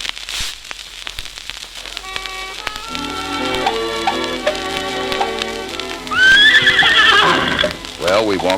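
A horse lets out a loud, shrill whinny near the end, over a musical backdrop with light patter and voices nearby.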